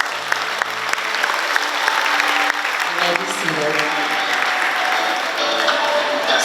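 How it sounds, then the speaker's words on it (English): Applause rings out for school ministry students at a high school graduation, a broad wash of clapping from a large crowd that carries on while a voice speaks over it. "Let's give them a round of applause."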